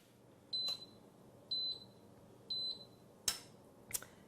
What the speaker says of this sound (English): So there we have it, our timer.